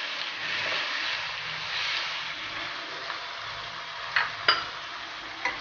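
Roughly chopped tomatoes fry in a pan, giving a soft steady sizzle and hiss, with a few sharp clicks from stirring near the end.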